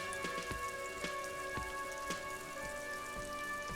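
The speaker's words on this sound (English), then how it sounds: "All around you, rain falls on the great city of Rivershaw. Rain drips from the eaves and floods the gutters" Rain in the video game Disco Elysium falls steadily over a city, with scattered close drips and patters from eaves and gutters over a soft, continuous wash and a faint sustained musical tone.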